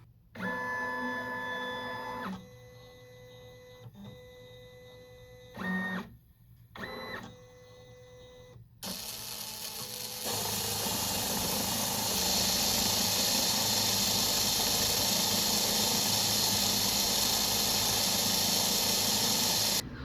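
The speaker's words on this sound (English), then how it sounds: "I'm gonna hit send over in my software and the machine's gonna do its little dance and we will etch" A Curio 2 cutting machine first whirs through short stepped motor moves, then etches an acrylic blank with a steady, close, hissing scrape that continues without a break.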